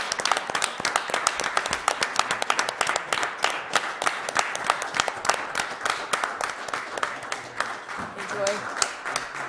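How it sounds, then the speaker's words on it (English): Audience at an Auburn Select Board meeting on their feet giving a round of applause, brisk dense clapping from many hands filling the room, steady and fairly close, easing slightly toward the end. "we should rise and give him a round of applause"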